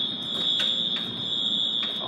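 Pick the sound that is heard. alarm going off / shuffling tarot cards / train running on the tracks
alarm going off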